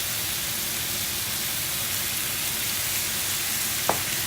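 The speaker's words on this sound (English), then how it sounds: "Going to add a little more white wine." Mushrooms frying in a pan with white wine added to deglaze, a steady broadband sizzle running evenly throughout with one brief click near the end.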